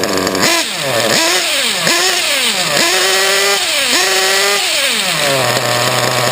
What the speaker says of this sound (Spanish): Ahora lo he cerrado 5 minutos y vamos a ver cómo va el motor.